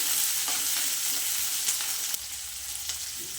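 Ginger and spices frying in hot oil for a village-style avare bele saaru, a continuous hissing sizzle with occasional light stirring scrapes, steady and close, no talking.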